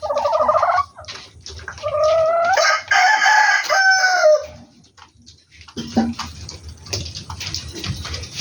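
Hill desi chickens cluck nearby and a rooster crows loudly in a long drawn-out call, followed by softer clucking and farmyard rustle.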